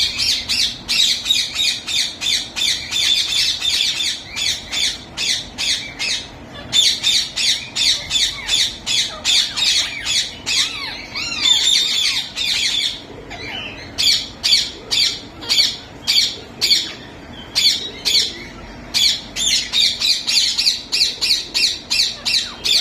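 Yellow parrots squawk in loud, harsh, rapid bursts that come in repeated rhythmic clusters throughout, with short pauses between volleys and no talking.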